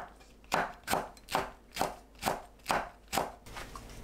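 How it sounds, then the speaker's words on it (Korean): A knife slices green onion, Cheongyang chili and red chili into rounds. About seven crisp, evenly spaced cuts land close and distinct, then a softer stroke follows. "파, 청양고추, 홍고추를 둥글게 썰어줍니다."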